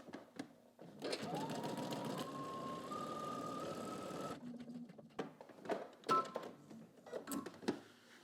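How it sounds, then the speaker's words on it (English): A sewing machine fitted with a buttonhole foot sews a buttonhole in one steady run of about three seconds with a climbing motor pitch, followed by scattered clicks and handling taps nearby. "So let's go ahead and do our buttonholes."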